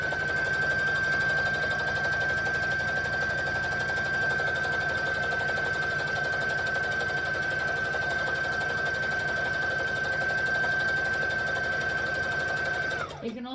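A sewing machine stitches fast and evenly along an ironed crease while making a Kwik Sew K4172 garment, a close continuous whir that runs unbroken before stopping abruptly at the end.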